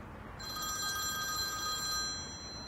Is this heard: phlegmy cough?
no